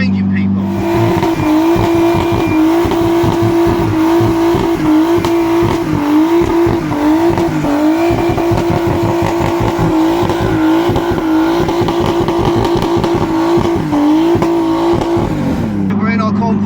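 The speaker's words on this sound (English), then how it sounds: "We're in our convoy and we're on our way to the actual event." A convoy of cars on the road heading to a GT Tuners club car event, with a steady engine drone and shifting revs running continuously close by.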